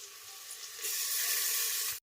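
Tomatoes dropped into a hot pan to fry, setting off a loud, bright sizzle that swells suddenly, holds steady for about a second, then cuts off abruptly.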